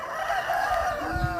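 A village rooster crows once, loud and close, in a single drawn-out cock-a-doodle-doo against a quiet rural background.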